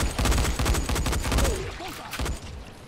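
In the video game Dying Light, rapid gunfire comes at the player as a dense, loud burst of repeated shots. A voice cries out briefly over the shooting near the end.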